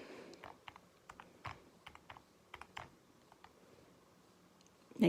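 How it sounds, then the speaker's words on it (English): Keys tapped as numbers for a quadratic formula are entered, a run of light, close clicks in an uneven rhythm against a quiet background, ending in a louder thump. "I'm going to type that in."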